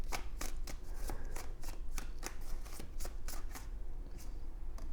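Tarot cards shuffled by hand before more are drawn, a quick rhythmic run of soft riffles and taps, close but fairly quiet, with no talk.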